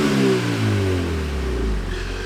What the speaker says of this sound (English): That's what the car sounds like right now.